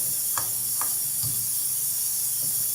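Onions frying in a pan until light brown, a steady bright hiss and sizzle with a few soft stirring scrapes, close and continuous.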